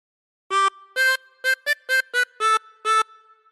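Chromatic harmonica plays a short melodic phrase of eight clean, reedy notes with brief gaps between them, loud and close with no voices, following the tune of We Wish You a Merry Christmas.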